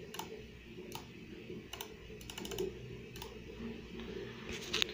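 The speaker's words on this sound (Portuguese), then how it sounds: "Ele é um teclado semi-mecânico." Typing on a semi-mechanical computer keyboard in a home desk setup, scattered soft key clicks at an uneven pace over a low steady room hum, close and fairly quiet.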